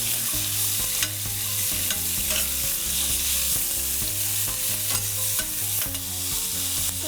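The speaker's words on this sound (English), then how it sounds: "And the pork that was marinating, this is where we're gonna use it now. Slide that in." Thin slices of marinated pork fry loudly in a hot pan, a dense close sizzle with frequent stirring scrapes and clicks over the whole stretch.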